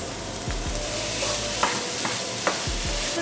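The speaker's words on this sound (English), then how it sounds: "So now we're just gonna fry that up and get that rice nice and fried." About six servings of cooked rice stir-fried in a pan over lowered heat, with a soft sizzle under a few sharp scrapes and clacks of a utensil stirring and tossing, close by and with no talk.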